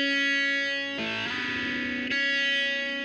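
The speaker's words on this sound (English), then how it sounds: "So I added yet another guitar pedal to the mix, just to add a little bit of wobbly to the sound." Double-tracked electric guitar through sub-octave, phaser and distortion pedals, holding a buzzy sustained chord that shifts to a denser wobbling, phasing texture midway and then returns, loud and close with no voices.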